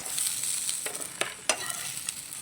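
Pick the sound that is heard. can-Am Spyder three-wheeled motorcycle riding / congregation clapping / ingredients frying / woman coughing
ingredients frying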